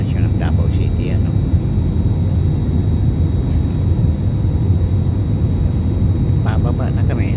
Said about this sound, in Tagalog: Bababa na kami, landing na kami ngayon